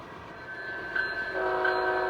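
A freight train loaded with wood chips climbing a mountain grade toward the summit, its horn sounding a sustained chord that shifts to a second, richer blast over a rumbling train in the distance.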